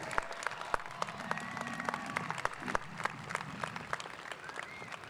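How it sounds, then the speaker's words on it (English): A high school graduation audience claps steadily in a large venue, a dense patter of many hands heard from a distance with a few sharper individual claps standing out. "I want everyone in this venue to give them a round of applause."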